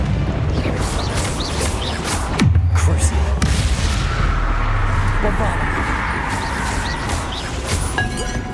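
A Bombarda explosion spell goes off in Hogwarts Legacy: a single heavy boom with a deep rumbling tail amid other combat sounds, with voices over it.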